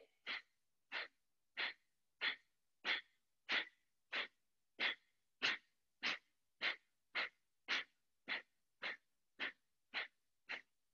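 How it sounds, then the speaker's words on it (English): Close, forceful breaths in a breathing exercise: about eighteen short, rhythmic bursts evenly spaced roughly half a second apart, alone with no speech. "Take an inhale to prepare, and exhale to begin."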